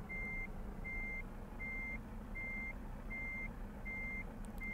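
Reversing beeps from a truck in Euro Truck Simulator 2, a regular series of six evenly spaced electronic tones repeating over a low steady engine hum, with no talking.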